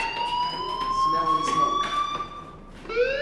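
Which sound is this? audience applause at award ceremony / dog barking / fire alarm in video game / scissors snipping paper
fire alarm in video game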